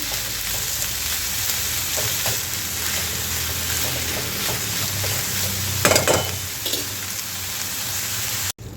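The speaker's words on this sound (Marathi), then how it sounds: "आपण छान परतून घेतलेली आहे भाजी" Purslane greens sautéed in a pan give a steady sizzle and frying hiss throughout, with a few louder stirring scrapes and clatters near the middle and a sudden cutoff at the end.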